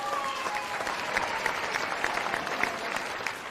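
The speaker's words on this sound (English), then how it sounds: "I do want to give yourselves a massive round of applause for one more time," Steady, dense applause from an audience at a care-sector awards evening, many hands clapping continuously and evenly at moderate distance, with a few brief voices mixed in.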